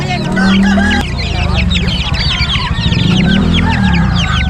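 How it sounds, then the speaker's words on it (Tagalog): Asil chicken chicks and roosters at an outdoor pet market, with loud rooster crowing up close over a dense layer of continuous high chick peeping and clucking. "sa mga naghahanap ng sisiw na asil marami siya oh"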